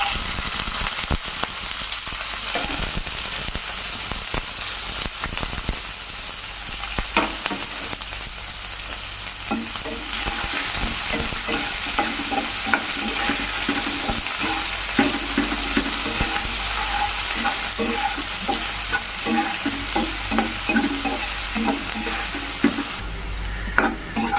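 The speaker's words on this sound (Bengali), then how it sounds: "এবারে কেটে রাখা পেঁয়াজগুলো দিয়ে দিচ্ছি" Chopped onions fry in hot oil and are stirred steadily, a continuous close sizzle broken by the scrape and clatter of a spatula against the pan, with no voices.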